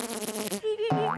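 A person vocally mimics a bumblebee buzzing, a short nasal droning hum that holds then shifts pitch upward, close and moderately loud.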